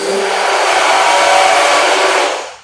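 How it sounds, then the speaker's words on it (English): A hand blender dipped into soap and water for cleaning whirs loudly and steadily for over two seconds, then winds down at the end, with no talking. "So you take your blender, you can dip it into, all I have is soap and water."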